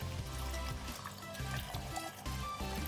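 Clean water pours steadily over cucumber pickles in a jar, a continuous splashing trickle that runs loud and close throughout with brief shifts in flow.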